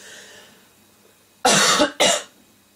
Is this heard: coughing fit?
yes